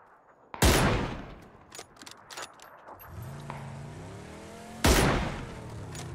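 Gunfire in the battle game PUBG: two sharp loud shot bursts about four seconds apart, with faint scattered pops and a low rising engine-like drone between them.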